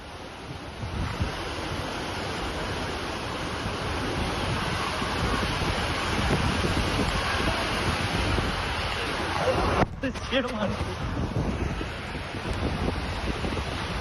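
Rushing floodwater in Palghar sweeping buffalo along with it, heard as a loud, continuous roar of churning water with wind buffeting the microphone, steady throughout with a brief disturbance near the end.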